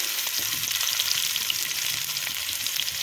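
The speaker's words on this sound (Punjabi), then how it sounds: "ਜੀਰਾ ਆਪਣਾ ਭੁੰਨ ਲਿਆ ਭੁੱਜ ਚੁੱਕਿਆ ਹੈ ਹੁਣ ਆ ਮੋਟੇ ਕੱਟੇ ਹੋਏ ਪਿਆਜ਼ ਤੇ ਟਮਾਟਰ" Chopped onion and tomato fry in oil with roasted cumin, a dense, even hiss and crackle that stays steady throughout, heard close up with no speech.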